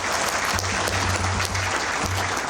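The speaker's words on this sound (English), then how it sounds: "Give it a big clap." Conference audience applauding loudly and continuously, a thick close roar of clapping with a low hum underneath and a voice faintly audible through it.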